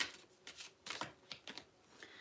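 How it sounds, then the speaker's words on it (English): Tarot cards are shuffled in several quick riffling bursts, close and fairly quiet, with brief pauses between them and no talking. "why is this taking me so long to shuffle them?"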